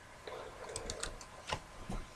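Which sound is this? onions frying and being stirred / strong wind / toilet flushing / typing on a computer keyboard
typing on a computer keyboard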